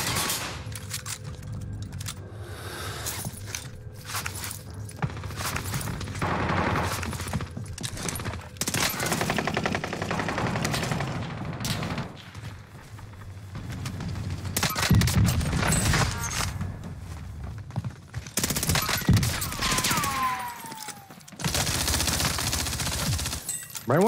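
Gunfire in a multiplayer shooter game firefight: sustained loud bursts of automatic weapon fire with rapid cracks and rattling volleys, broken by short pauses and overlapping shots, some near and punchy, others more distant.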